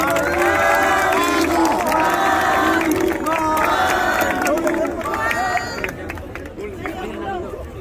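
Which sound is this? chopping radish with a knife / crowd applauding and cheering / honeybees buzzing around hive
crowd applauding and cheering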